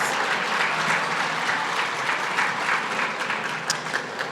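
Sustained applause from a gala dinner audience at an awards event, dense and even throughout with a faint crowd murmur beneath.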